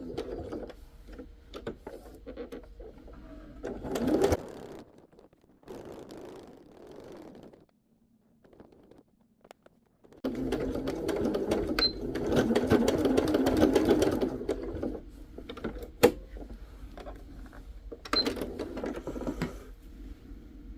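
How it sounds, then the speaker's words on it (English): A sewing machine stitches a small patchwork brooch in close, steady whirring runs broken by pauses and a stretch of near silence, with faint mechanical clicks between the runs. "First back stitch, and then I can start sewing."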